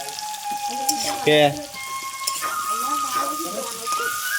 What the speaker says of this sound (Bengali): আলু ভাজা স্টার্ট হয়ে গেছে